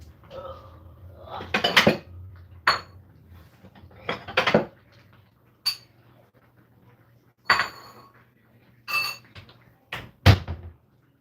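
Cutlery and dishes clatter during a vegan dinner at home, with several separate sharp clinks and scrapes of a fork or spoon against plates, spaced apart, close and moderately loud, with quiet pauses between.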